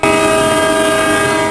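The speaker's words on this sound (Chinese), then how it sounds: "发出好长的鸣笛声。" A Tze-Chiang express train sounds a long, loud, sustained horn blast near Sandiaoling station in Ruifang, New Taipei, a steady tonal wail with faint rail rumble beneath.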